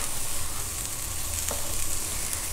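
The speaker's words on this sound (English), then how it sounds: "for few seconds I'll saute my carrot and then add my zucchini" Carrots sautéing in a pan for a vegetable noodle soup, a dense steady hiss of sizzling oil close up with one faint clink partway through, no talking.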